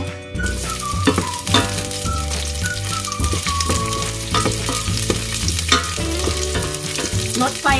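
Onion sizzles and is stirred in a hot pan for a Thai green curry, a steady frying hiss with repeated scraping stirs and light utensil clinks, close and alone.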